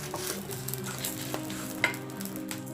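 Curry leaves and dried red chillies roasting in a kadai, a close steady sizzle and crackle with scraping stirs and a few sharp pops, with no speech.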